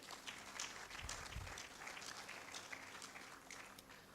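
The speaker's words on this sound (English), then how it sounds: "a big round of applause to all the institutions that brought in their students and to the students as well" Applause from an audience at an AI book launch honouring institutions and their students, a faint, distant patter of clapping that stays fairly even throughout with no talk over it.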